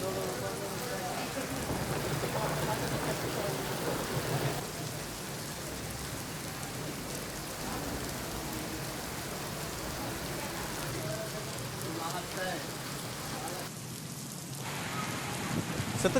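Heavy, continuous rain pours down in Mumbai, a dense, unbroken hiss that stays loud and even throughout, with no talk.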